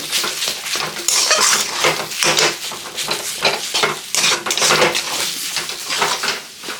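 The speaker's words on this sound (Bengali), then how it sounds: "আর এটার মধ্যে লাল লঙ্কার গুঁড়ো দিব। এটাকে একটু নাড়িয়ে দিব এখন।" A prawn chop mixture with red chili powder is stirred vigorously, producing loud, continuous close-up scraping and squelching strokes in a steady back-and-forth rhythm.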